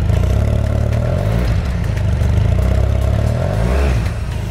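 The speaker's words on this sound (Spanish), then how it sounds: "este es el sonido original de la moto" A BMW F800GS Adventure motorcycle engine with its stock exhaust revs steadily with a low, rough, throaty rumble and slight clatter, staying loud and close throughout.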